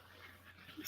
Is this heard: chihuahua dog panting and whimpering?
yes